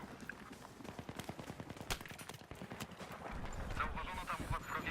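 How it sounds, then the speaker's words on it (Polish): Gunfire in the video game Battlefield 3, a quick multiplayer match, comes as sharp repeated shots and bursts over rumbling battle noise, with a voice talking faintly underneath. "Ciągle coś do mnie strzela."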